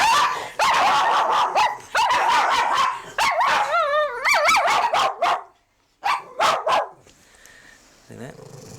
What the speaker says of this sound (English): So, Chin Chin's not afraid to take on big dogs